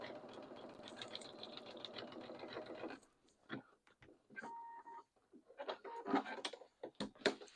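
A sewing machine runs a zigzag stitch across a denim jeans waistband in a steady, fast whir that stops after about three seconds, followed by scattered faint clicks and handling noises, quiet and close.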